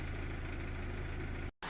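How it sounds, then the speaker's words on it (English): Neglected Mazda 2 1.5 diesel engine idling, a steady low rumble with an even, rapid pulse, heard close and alone before a brief cut near the end. "the car has been here idling for about, I don't know, maybe 45 minutes maybe"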